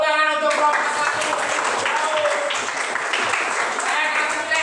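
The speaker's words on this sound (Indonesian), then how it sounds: "Tepuk tangan untuk kelompok 1." A class applauds group 1 in a classroom, with dense, steady clapping filling the whole clip after a brief moment of voice at the start.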